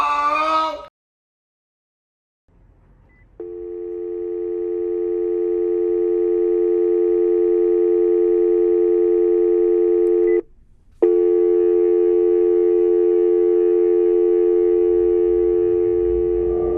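Steady electronic telephone tone after a phone call ends in the video game Control, holding for about seven seconds, cutting out briefly, then resuming just as loud and continuous.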